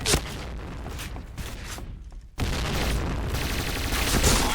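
Rapid bursts of automatic gunfire from an MP9 submachine gun in a game, loud and dense, with a brief pause before the firing resumes.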